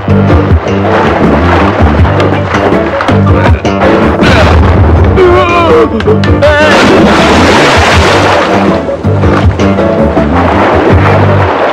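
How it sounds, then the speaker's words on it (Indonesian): Heavy booming blasts with a roaring, rumbling wash, loud and dense, one thunderous report rolling into the next under music-like tones. "tembakkan cannon ke sekeliling."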